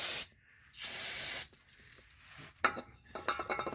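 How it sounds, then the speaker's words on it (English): Aerosol brake cleaner sprayed onto the transfer case plugs of a 2012 Ford F-250 Super Duty, two loud close hissing bursts followed by dripping and faint clinking. "I'm going to clean both of them with a little brake cleaner"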